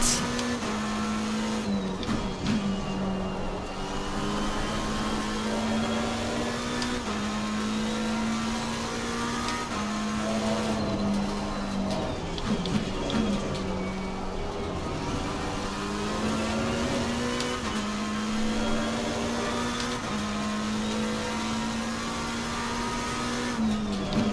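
A GT race car engine in Assetto Corsa Competizione at Imola, loud and close, with a sustained droning engine note that rises and falls through gear changes and repeated revving sweeps, with no talk.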